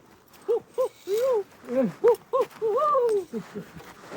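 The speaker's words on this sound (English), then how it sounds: "barred owls, B-A-R-R-E-D, are their hoots sound like they're saying, "Who cooks for you?"" A barred owl gives its rhythmic hooting call, a run of pitched hoots with a drawn-out, sliding final note, loud and fairly close.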